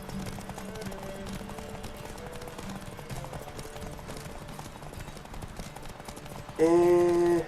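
A horse gallops in The Witcher 3: Wild Hunt during a race. Its hooves beat a steady, rapid clip-clop under game music, and a loud sustained tone rises near the end.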